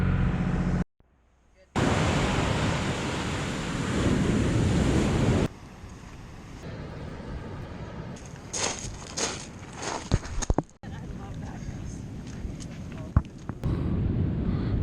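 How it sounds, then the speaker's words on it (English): Incoming tide surges hard against a giant rock wall on the West Coast Trail in Canada, a steady roar of surf with heavy wind buffeting the microphone, then a quieter stretch of washing water and shuffling movement. "the tide's coming in hard on the other side of it"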